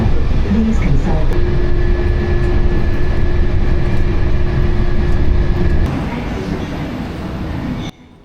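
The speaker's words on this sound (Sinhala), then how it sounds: "මේ තියෙන්නේ D1 to D32 ගේට්ස් වලට මෙන්න මේ මෙට්‍රෝ එකේ තමයි අපිව එක්කගෙන යන්නේ" An automated airport metro train heading to the D1 to D32 gates in Dubai rumbles along with a loud steady hum and a sustained tonal whine, then the noise drops sharply as it slows, with a voice talking nearby.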